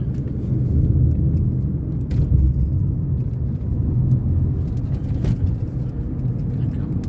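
Heavy road traffic rumbles past at Khao Tako pass, a steady low drone of car and truck engines with a couple of brief louder passes, moderately close with no clear voices.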